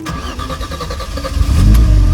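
Mercedes M104 turbo engine cranking with a rapid rhythmic starter chatter, then catching and firing into a louder, rougher rumble near the end.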